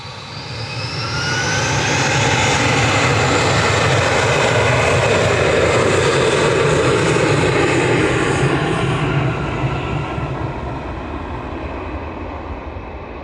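A Turkish Airlines Airbus A321 jet roars past at Manchester Airport, loud engine noise swelling over a couple of seconds, holding strong, then slowly fading away.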